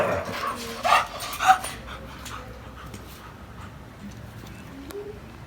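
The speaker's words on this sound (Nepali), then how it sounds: "यिनीहरू चाहिँ भोटे कुकुरको ब्रिड हो है त दुइटै" Two Bhote breed dogs give a couple of short barks and whimpers early on, then fall quiet. Birds coo in the background outdoors during a Holi outing, with no clear talk.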